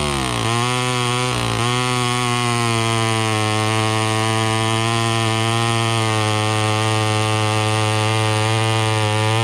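A chainsaw idles and runs loudly and close, its engine settling into a steady, unbroken buzz after a brief rev near the start.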